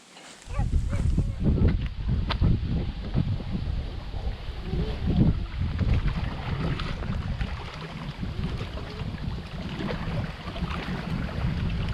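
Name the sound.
boat on water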